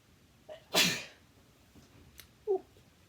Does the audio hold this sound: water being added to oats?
no